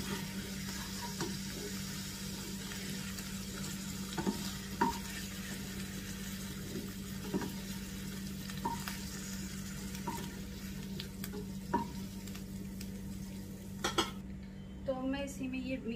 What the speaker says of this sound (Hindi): तो हमारा पनीर भी फ्राई हो चुका है, मैं इसको निकाल लूंगी।